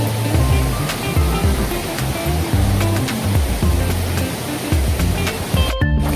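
Water flows steadily through a jungle near a village, a loud, continuous rushing wash with no pauses that cuts out briefly near the end.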